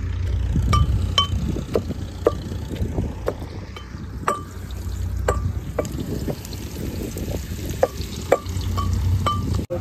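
Masala dalma, a spiced lentil and vegetable dish with raw fish, cooking in a pan at a paddy field during the rice harvest. It is stirred steadily, with repeated metal spoon clinks against the pan over continuous close sizzling and no talking.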